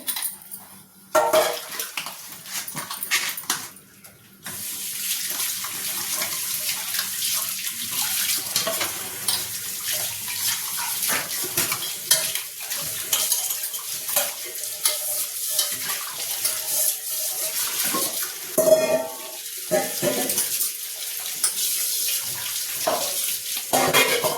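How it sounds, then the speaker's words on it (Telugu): Dishes and pots being scrubbed and rinsed in a home kitchen, with running tap water, repeated clinks of steel utensils and scraping, close and fairly loud, with short pauses. "ఈలోపు కొన్ని గిన్నెలు ఉన్నాయి, అవి తోమేస్తా"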